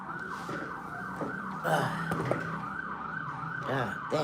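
Ambulance siren wailing up the block, loud and steady with a repeating rising-falling sweep over street noise, a voice briefly audible beneath it.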